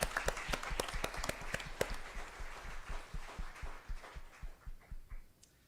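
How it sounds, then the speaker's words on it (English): Audience applause at a school governing board meeting, a small group clapping in a fairly quick, sparse rhythm, with individual claps distinct, gradually slowing and softening until it dies out. "let us give a round of applause for this gifted and talented young artist"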